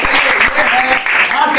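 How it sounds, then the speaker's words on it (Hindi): Audience applause at a coaching-centre quiz event, a brief, loud burst of clapping from a crowd mixed with voices talking over it. "ताली ताली"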